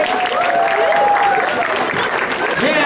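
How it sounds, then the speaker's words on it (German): Loud, sustained audience applause at a talent show in Plochingen, greeting a hip-hop and breakdance group on stage, with a whistle or cheer rising over the steady clapping throughout. "Ein Riesenapplaus, Klatsch für ihn, Cosimo und die Battletoys!"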